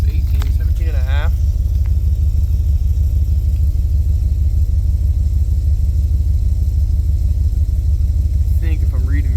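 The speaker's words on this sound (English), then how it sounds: "So it's kind of trying to idle against the e-brake." A car engine idles steadily under load against the engaged e-brake, a loud continuous low rumble running throughout, with brief voice fragments near the start and end.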